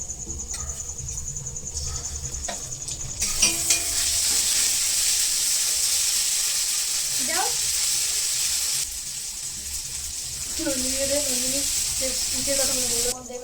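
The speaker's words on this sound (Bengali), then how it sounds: "এগুলোকে এবার লাল লাল করে ভেজে তারপরে মাংসটা দিতে হবে" Onions and spices frying in oil before meat goes in, a steady sizzle running through the clip with faint background sounds and a few voice-like tones, cooking at an outdoor picnic.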